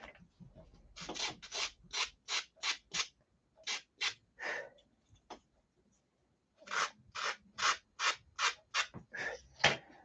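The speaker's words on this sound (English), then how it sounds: "We need to sand out the inside too." Sandpaper worked by hand inside a Vector 40 motor mount, heard as close, loud rasping strokes in quick regular runs, with a short pause midway before another steady burst of rubbing.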